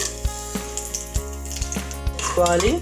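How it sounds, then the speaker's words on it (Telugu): Whole spices frying in hot oil for an Andhra-style mutton curry, with cloves, cinnamon, cardamom and bay leaf, give a steady sizzle. A series of sharp utensil knocks against the pan falls at a regular beat, and a louder burst comes near the end. "ఆయిల్ హీట్ అయిన తర్వాత ఇక లవంగా, చెక్క, ఇలాచి, బిర్యానీ ఆకు వేసుకోవాలి."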